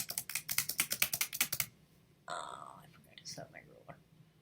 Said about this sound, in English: Let's say that you've been typing your paper.